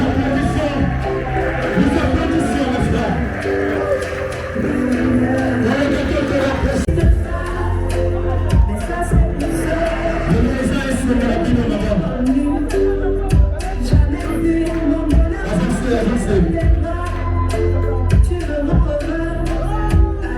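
Guests at a party clap as a cake is wheeled in on a trolley. The clapping sounds like rhythmic claps and cheering mixed under loud music, and it grows denser partway through.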